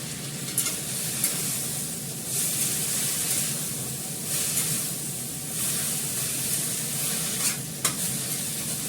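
Four green chillies going into lentils cooking in a pot: a continuous close sizzle and hiss with rhythmic stirring swells and a couple of sharp clinks, no talking.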